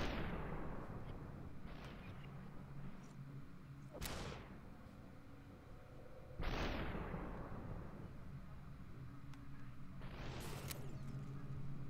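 Gunfire in the slow-motion shooter SUPERHOT comes as a few sharp blasts with long, decaying booms that die away slowly. The shots are spaced several seconds apart over a low background rumble.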